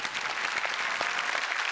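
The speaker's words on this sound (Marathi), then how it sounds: "जोरदार टाळ्या झाल्या पाहिजेत ललित प्रभाकर साठी." A studio audience applauds loudly for actor Lalit Prabhakar during a Marathi comedy TV show, a steady dense wash of clapping with no talk.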